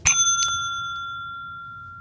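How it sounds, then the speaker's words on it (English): A single bright ding of a bell struck once, loud and close, with a clean ringing tone that slowly decays over two seconds of otherwise silent background. "Unring the bell, Brandon."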